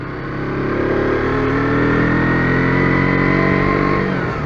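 KTM RC 125 motorcycle ridden through town streets, its small single-cylinder engine droning loud and close with rising revs as it pulls through the gears, a steady buzzing whine holding throughout without pause.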